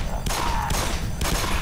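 Gunfire in the video game Black Mesa: dense, loud bursts of shots packed together over a steady background of game noise, with no talking.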